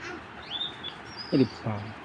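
Imported racing pigeons give a few brief, faint chirping calls at close range, with a couple of short low bursts toward the end.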